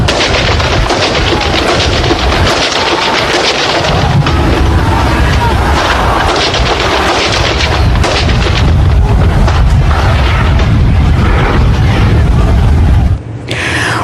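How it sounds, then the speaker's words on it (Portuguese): Dense, loud police gunfire at inmates in Alcaçuz prison, Rio Grande do Norte, rattles on without pause, heavy bursts blending into a continuous roar with booming reports, cutting off abruptly near the end. "Vamos ver de novo o momento em que a polícia atira contra os detentos."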